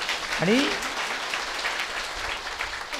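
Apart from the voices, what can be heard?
audience applause at award ceremony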